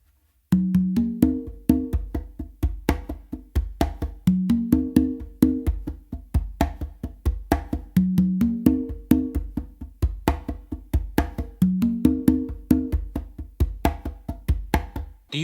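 Congas playing two Funk A Caballo fusion patterns joined into one groove, crisp hand strikes in a repeating syncopated cycle with alternating higher and lower tones, close and steady throughout.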